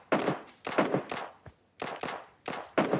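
S12K shotgun blasts in PUBG Mobile, heavy thudding shots fired in quick pairs and bursts with short gaps between them, close and punchy.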